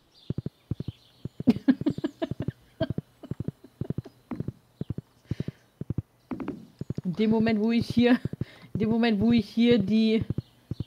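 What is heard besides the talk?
horse galloping over a bridge in video game Stardew Valley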